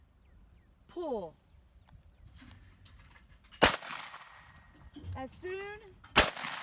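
Shotgun shots at clay targets, two sharp, loud cracks a few seconds apart with echoing tails outdoors, between stretches of voices talking.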